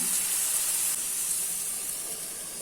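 Chicken frying in a pan over a medium flame, a steady close hiss of sizzling oil and steam that holds evenly throughout with no voices.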